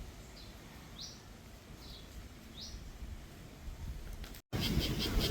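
Four short, high chirps from a bird repeat at a steady pace, faint and distant over quiet outdoor ambience, then a sudden louder burst of noise cuts in at the end.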